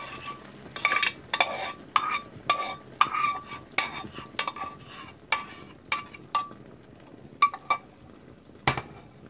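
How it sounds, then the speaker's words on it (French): Stuffed tofu stirred in sweet and sour sauce in a frying pan over low heat: repeated utensil scrapes and clinks against the pan over a faint sizzle, no talking. "maintenant on va rajouter le sauce avec doux dans la poêle"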